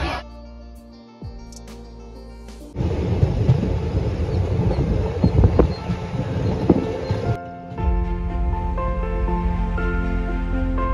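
A passenger train on the Mumbai to Pondicherry route moves slowly through fog near Vellore. A loud rumbling, clattering stretch rises between steadier tonal humming passages, with no speech.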